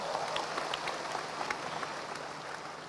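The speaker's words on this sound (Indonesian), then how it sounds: "aplaus buat Anda Bapak Ibu" An audience at the Tiens convention in 2019 applauds, dense, steady clapping from a large crowd filling the hall for a few seconds at fairly even loudness.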